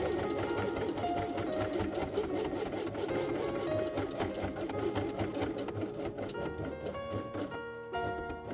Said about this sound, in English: sew it only its lower edge from here to this place